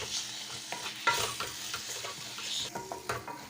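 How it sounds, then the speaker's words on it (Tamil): An egg masala mixture sautés in a pan with a quiet crackling sizzle and repeated soft stirring scrapes, close by and fairly faint. "நல்லா பச்சை வாசம் போக வரைக்கும் இது நல்லா வதக்கி எடுத்து வச்சுக்கலாம்."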